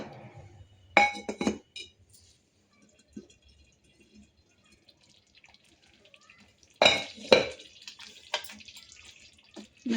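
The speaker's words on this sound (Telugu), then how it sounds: "చిన్న మంట మీద మూత పెట్టి ఉడకబెట్టుకోవాలి" A lid goes onto a pot of mirchi ka salan to simmer on low heat, with two bursts of close glassy clinks and rattles separated by near silence and faint drips.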